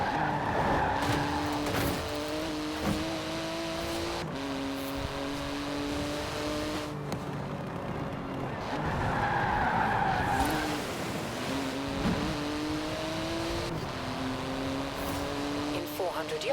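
A Porsche GT2 RS in Forza Horizon 4 revs hard, its engine pitch climbing and dropping through repeated gear changes, with tire squeal mixed in and voices talking over it.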